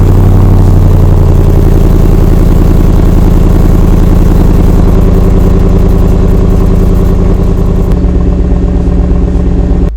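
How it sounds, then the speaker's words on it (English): A Ford Mustang GT with stock exhaust cold starts, settling into a loud, steady V8 idle that holds a deep rumbling drone close to the microphone, with a brief step in pitch near the end. "let's get a cold start"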